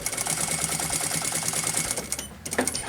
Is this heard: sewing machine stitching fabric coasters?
yes